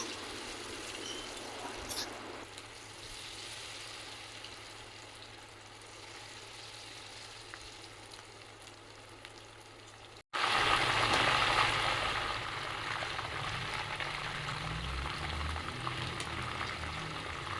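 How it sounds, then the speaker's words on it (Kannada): Mushrooms fry in a pan, a low sizzle that suddenly jumps to a louder, denser crackle as more go in, then holds steady without talking. "ಸೊ ಇದೇ ಥರ ಉಳಿದಿರೋಂತಹ ಮಶ್ರೂಮ್ನ ಕೂಡ ಫ್ರೈ ಮಾಡ್ಕೊಂಡ್ಬಿಡ್ತೀನಿ."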